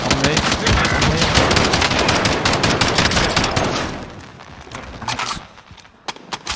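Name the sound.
gunfire in Call of Duty: Warzone video game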